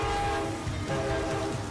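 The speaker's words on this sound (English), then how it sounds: "And a train is coming." A train passing near a stadium with its horn sounding, a loud steady blare over the heavy rumble and rattle of rail cars rolling by close at hand.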